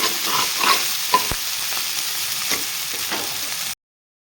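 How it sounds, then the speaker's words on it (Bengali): Cauliflower and potatoes sizzle steadily in a hot pan while a utensil stirs them, with occasional scrapes and clicks against the pan, then silence. "ফুলকপি আলু ভাজাটা মোটামুটি আমার হয়ে আসছে"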